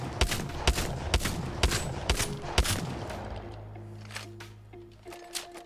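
Eva 8 auto shotgun tap-fired in Apex Legends, a string of about eight sharp, evenly spaced blasts roughly half a second apart, followed by quieter mechanical clicks and a humming lull.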